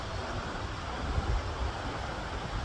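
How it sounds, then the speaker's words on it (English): A powerful waterfall in the interior of Iceland: a steady, dense roar of rushing water, loud and unbroken for the whole stretch, with some wind buffeting and no voices. "stopped at one of these beautiful, powerful, majestic waterfalls along the way"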